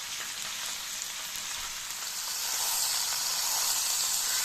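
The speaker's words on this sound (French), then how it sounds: "On va le faire rôtir de chaque côté" Lamb shoulder sears in a hot pan, a steady bright sizzle and crackle of frying fat that holds constant and grows a little louder partway through, with no talking.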